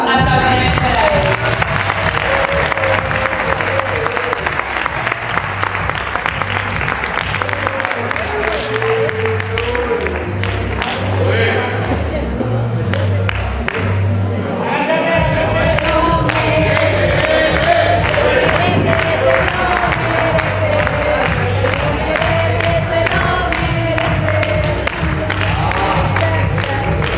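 Audience at a festive lunch gathering in Alzira applauds loudly and steadily, cheering mixed in, with loud music and a bass beat pounding underneath for the whole stretch.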